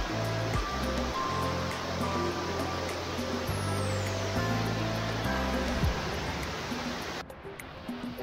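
Batlag Falls in Tanay, Rizal roars as a steady, broadband rush of falling water, loud and continuous throughout, with a low hum in the background and a brief rustle near the end.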